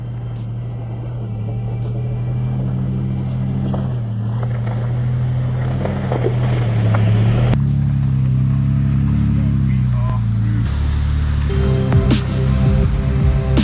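A 4x4 vehicle grinds slowly through muddy ruts in a rainy season setting at Grabouw, its engine drone steady and close throughout, with knocks and scrapes and a rising tone near the end.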